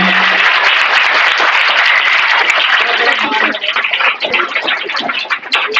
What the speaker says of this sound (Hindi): बुके देते हुए जोरदार तालियां